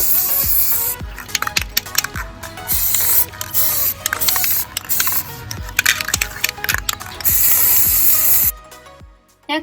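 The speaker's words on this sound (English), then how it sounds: "give the front a couple of coats of gold metallic spray paint" Gold metallic spray paint hisses from an aerosol can in repeated loud bursts of varying length, separated by short pauses and light clicks of the nozzle, with no talking.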